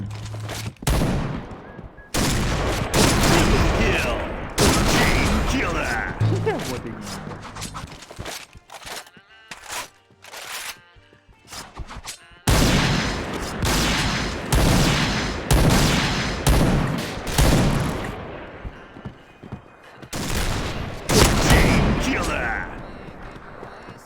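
Rapid gunfire in a shooting video game, with bursts of automatic fire and single loud shots repeating densely throughout, close and loud, with players talking over the action.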